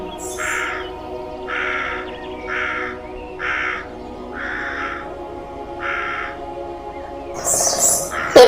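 Crow caws in a short series of about six evenly spaced calls, fairly close and clear over a steady low background hum, with a burst of louder noise at the end.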